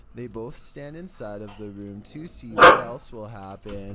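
A dog barks once, sharp and fairly loud, in the middle of a passage of steady narration.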